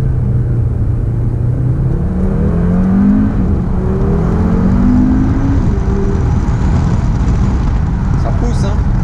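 An Audi RS Q3 SUV with a paddle-shift gearbox accelerates hard, its engine note climbing in rising sweeps through several gear changes, loud and close inside the cabin, with someone talking over it at times.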